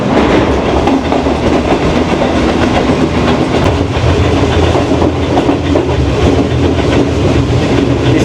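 The 5UP Green Line train rolls along the tracks at speed between Rohri and Pindi. The rumble and clatter of wheels and carriages stay loud and steady throughout, heard from on board with no voices.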